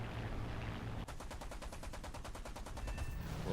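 Rapid aircraft cannon fire in the War Thunder jet combat game, a quick burst of evenly spaced shots lasting a couple of seconds over a constant engine roar.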